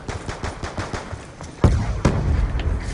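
Rapid bursts of automatic gunfire in the video game Call of Duty Black Ops 2, loud and close, with rattling shots followed by heavier impacts and no talk.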